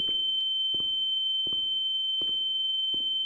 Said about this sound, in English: That ringing.